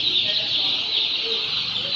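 Chickens and ducks at a poultry seller in Khulna make a dense, steady, crowded chorus of clucking and chattering, loud and continuous with no pauses.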